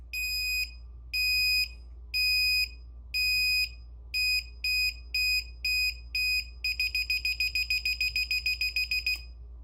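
Loud electronic beeps in a ten-second countdown on a rocket launch stand, slow tones at first then quickening into rapid pulses, ending with a sharp relay click.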